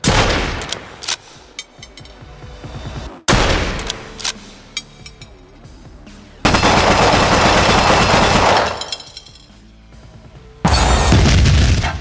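Layered gunfire and artillery sound effects with randomized shotgun pumps and added low end, loud bursts of rapid machine-gun fire and booming blasts in separate sections, with brief gaps between them.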